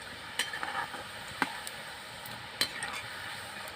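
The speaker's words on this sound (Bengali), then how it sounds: "এবার সুন্দরভাবে আমি ভেজে নেব নিমকিগুলো" Nimki, crisp flour snacks, fry in mustard oil with a soft, steady sizzle, broken by a few sharp clinks and scrapes of stirring. No voices.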